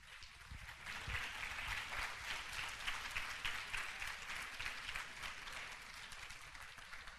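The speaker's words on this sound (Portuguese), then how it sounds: "La recibimos con un aplauso," Steady audience applause for someone speaker being welcomed at a university congress in São Paulo, Brazil, a dense, even wash of clapping that holds throughout without any voices.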